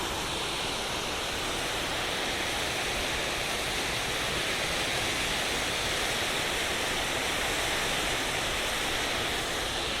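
Waterfall beside a switchback hiking trail at Maroon Bells, Colorado, a steady, dense rushing roar of falling water, loud and unbroken from start to finish with no voices.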